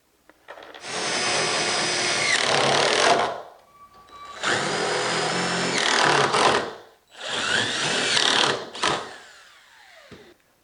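A power drill drives screws into a metal standoff bracket reinforcement for an Exact Slide, in three loud sustained whirring bursts of about two to three seconds each with short pauses between them, ending in a brief clatter.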